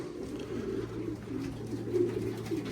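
Pigeons cooing in low, soft, repeated murmurs, several birds overlapping close by against a steady background hum.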